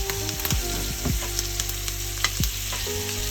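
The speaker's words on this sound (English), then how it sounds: "And then as that butter kind of melts down," Butter melts and foams in a hot pan before pork chops are cooked, giving a steady close sizzle and crackle with a few light clinks of utensils throughout.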